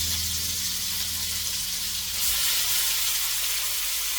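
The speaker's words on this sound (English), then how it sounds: "hearing the sizzle and gentle pops" Chicken browns in a pan, giving a steady, close sizzle with soft hissing and scattered small pops, continuous and without talking.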